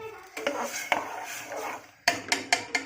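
Metal spoon scraping and clinking in a pan as masala paste is mixed with water for sambar, a run of sharp close taps and scrapes, the last second a quick rhythmic series of clacks.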